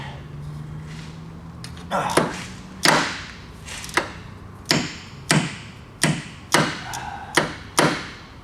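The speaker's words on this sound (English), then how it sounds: "Ratcheting wrench." Ratcheting wrench works on ignition coil replacement in a Nissan Maxima, making a steady series of crisp, close clicks and knocks roughly every second, with brief talk near the start.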